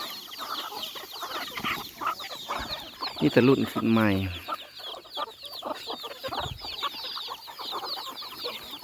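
Chickens cluck and chatter continuously nearby, with a loud squawk in the middle and someone talking over them.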